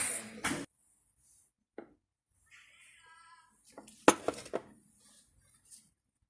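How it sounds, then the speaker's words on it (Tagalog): A knife cuts through a large onion on a board in a few scattered chops and thuds. Quiet gaps separate the cuts, and a faint voice and small kitchen clatter come in between. "Hatiin lang natin tong sibuyas kasi malaki."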